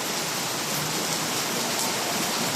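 Heavy rain pours down in a dense, steady roar of broadband hiss, loud and unbroken throughout, with no voices heard.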